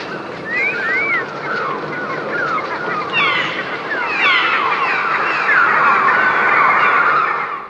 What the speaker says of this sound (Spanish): en los chillidos de los pájaros. Escuchémoslo de nuevo.